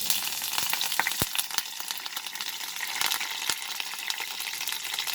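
Curry leaves dropped into about one and a half tablespoons of heated oil sizzle and crackle steadily, with a few sharp pops standing out from the continuous frying hiss, close and alone without talk.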